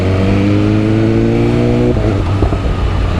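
A BMW M1000RR 1000 cc superbike engine revs hard and close, a loud sustained high-pitched howl with steady harmonics that drops and breaks off near the limiter, then settles into a rougher rumble.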